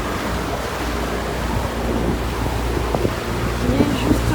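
Wind gusts steadily across an open relaxation deck with hammocks in the Amazon, a loud continuous rushing roar buffeting the microphone throughout, with faint voices underneath.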